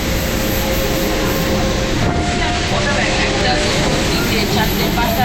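An Indian Railways local train running, a steady loud rumble and rattle of carriages on track filling the whole stretch without pause, heard from inside or close by.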